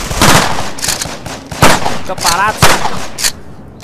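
Weapon fire in the 3D shooter game Combat Extreme cracks in loud, spaced single shots close by, about six or seven over a few seconds, while someone talks between them.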